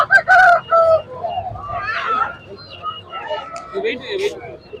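A rooster crows loudly nearby at a rooster and goat market in Erode, Tamil Nadu, a drawn-out call at the start, followed by clucking and someone talking in Tamil over the bird.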